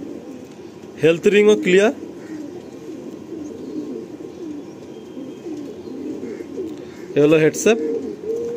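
Pigeons of the Kaldam breed, kept in a loft in Kolkata, coo softly and steadily in the background, a low murmuring drone heard throughout while someone speaks briefly at the start and near the end.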